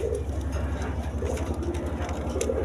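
Pigeons for sale, a cream-bar colour pattern, cooing close by in a low repeated rhythm over a steady background hum.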